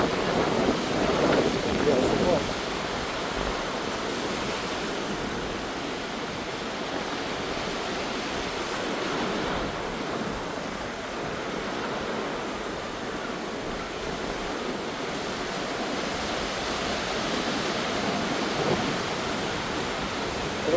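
Surf washes onto Khem Beach in Phu Quoc as a steady, broad rush of waves, with wind noise on the microphone and occasional talk.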